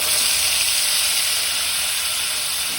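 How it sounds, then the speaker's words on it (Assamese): Tandoori chicken pieces dropped into hot refined oil in a kadai, a steady loud broadband sizzle and hiss with no breaks, close up. "কেৰাহীত মই ৰিফাইন তেল দি ল'লোঁ এতিয়া মই ইয়াৰ এপিচকৈ ইয়াত দি যাম"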